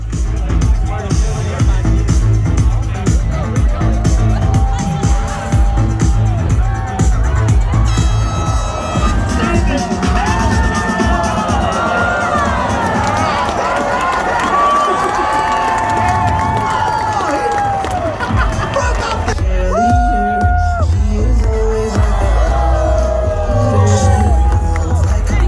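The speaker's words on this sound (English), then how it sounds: "This is just a small section of the crowd." A large outdoor crowd at Red Bull Flugtag 2023 cheers and whoops continuously, a dense roar of voices with rising shouts and excited calls, steady and loud throughout with babble of nearby talk.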